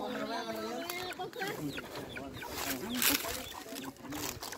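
A hen clucks in short, repeated bursts close by while people talk over it, the clucking rising and falling with the voices.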